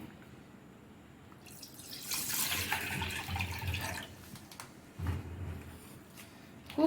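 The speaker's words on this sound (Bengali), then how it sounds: "এখানে একটা ক্যান নিয়েছি ক্যানের মধ্যে ঢেলে নেবো" Amul packet milk is poured into a can, a faint liquid stream that starts after a quiet moment, runs for a couple of seconds, fades and then gives a brief second splash.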